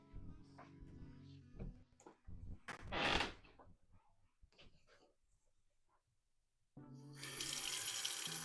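Water runs from a tap to dampen a pressing cloth for sewing, heard as a close, steady rush from a faucet after some handling noises, a brief splash and a quiet pause.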